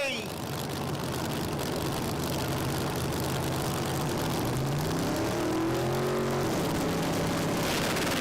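Twin turbo Hemi drag cars launch down the Willowbank strip in an Outlaw 275 radial race, a loud sustained engine roar with rising pitch sweeps as they accelerate, heard at a distance over crowd and track ambience.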